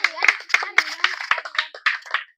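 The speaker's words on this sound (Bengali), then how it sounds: "আরিয়ানের জন্য হাততালি হোক।" Applause for a player at a village mud game where contestants lift a ball with their knees, a small crowd clapping in quick irregular bursts, close and lively, with voices mixed in.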